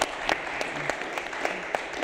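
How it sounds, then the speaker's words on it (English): Steady audience applause fills a leadership and legacy series event, a dense wash of clapping with a few sharper claps standing out, moderately loud and without talk. "So please give everyone a round of applause."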